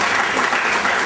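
Loud, dense applause from an audience at a school debating meet, continuous and close, cheering the debaters with no talk over it.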